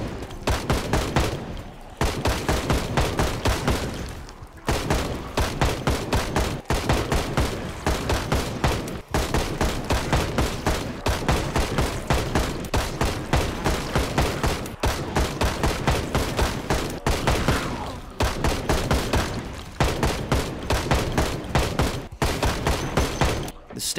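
Video game gunfire in the zombie survival game Project Zomboid, sustained bursts of rapid automatic shots in long repeated volleys separated by brief pauses, loud and close throughout.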